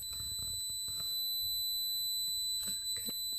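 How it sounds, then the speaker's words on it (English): A continuous high-pitched electronic beep sounds while a car fuse circuit in a Polestar 2 is probed during a dashcam install, steady and fairly loud over faint handling noises. "Again, sorry for the beeping sound."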